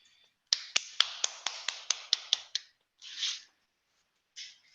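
Ten sharp, evenly spaced claps over a call line during an online Toastmasters club meeting, followed by two brief hissy bursts of noise.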